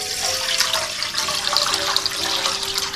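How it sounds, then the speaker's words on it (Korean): Two liters of water pouring into a cooking pot for beef broth, a steady close rushing splash with a rising filling tone, no voices. "물 2리터를 부어주었고요."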